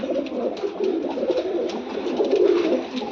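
A pair of pet pigeons coo close by in soft, rolling, repeated low calls, continuous and alone without any speech.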